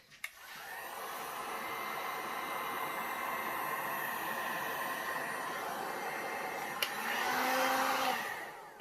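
Heat tool blowing on low to warm pink resin in 3D flower coasters, a steady airy hiss starting after a click, running evenly and then briefly swelling near the end, with no talking.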